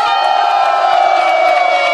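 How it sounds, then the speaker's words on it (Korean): Crowd at a Korean political rally cheering loudly, a sustained mass of shouting voices with a high ringing tone on top, close and steady with faint claps underneath. "우리 장기정 대표님께 우리 박수 한번 칩시다"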